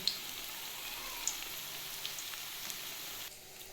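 Small shrimp pakoras fry gently in a pan over a low gas flame, giving a steady, faint hiss with scattered tiny pops that drops slightly quieter near the end.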